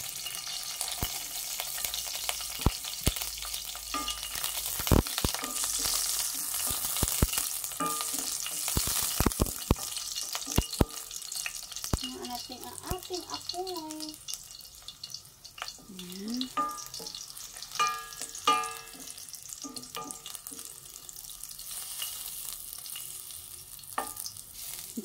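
Garlic sizzles in a hot pan for adobong takway while a utensil stirs and scrapes against the pan in irregular bursts, with quieter frying between the strokes.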